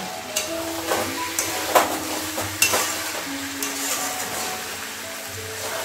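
Chicken sautéing with Everest Shahi biryani masala in a home kitchen pan: a soft, steady sizzle with stirring scrapes and a few sharp clinks of a utensil against the pan, fairly close, no talking.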